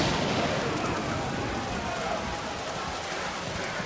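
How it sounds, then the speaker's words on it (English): A violent storm strikes an army in an Age of Empires 4 Hundred Years War cutscene, heard as a dense, steady roar of heavy rain with low rumbling underneath, loud throughout. "a violent storm hit the army"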